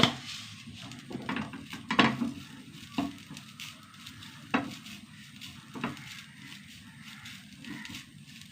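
Soft sizzling of fenugreek seeds and grated coconut roasting in a pan with irregular scrapes and knocks of a spatula stirring, steady and fairly quiet, no voices.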